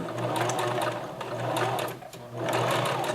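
A sewing machine stitches a topstitched seam in fabric, whirring steadily at close range with a brief slowdown midway before the motor picks up again.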